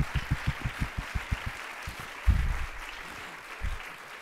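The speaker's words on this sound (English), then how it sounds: "And can the rest of the room clap?" At a Huntington's disease research event, a room audience claps, with a string of fairly evenly spaced, distinct hand claps up front that thin out, followed by a couple of louder thumps and scattered faint claps.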